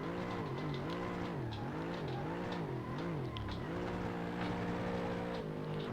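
A car drifting in the racing game Assetto Corsa holds a steady, droning engine note that wavers up and down repeatedly as the revs rise and fall through slides, with faint tyre noise.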